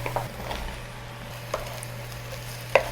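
Mushrooms go into a pan of hot olive oil and shallots and sizzle softly and steadily. A few light clicks and knocks from a utensil against the pan are heard, and no one talks.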